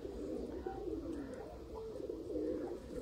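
Rampuri pigeons from Sialkot coo continuously in low, rolling throaty phrases that overlap one another, close by and steady throughout.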